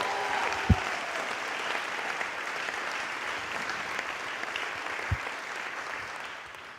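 Applause rises from a luncheon crowd in a church family life center, a steady wash of many people clapping at a moderate distance, with a couple of brief knocks or thumps and no voices on top.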